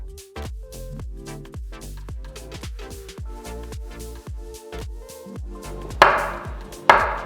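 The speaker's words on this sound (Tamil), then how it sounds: "வாழைப்பழத்தை சின்ன சின்னதாக கட் பண்ணி" Bananas for halwa are cut into small pieces on a board, with a brisk run of about twenty sharp knife chops in a steady rhythm and two louder knocks at the end.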